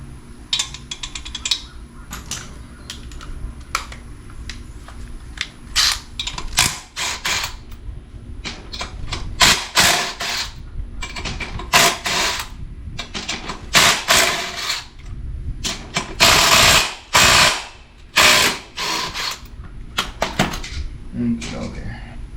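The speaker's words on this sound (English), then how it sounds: "We need to get these lug nuts off." Impact wrench or ratchet work loosening lug nuts on a Dodge D100 pickup wheel, with bursts of mechanical ratcheting and clanks in irregular spurts, loud and close, with talk in between.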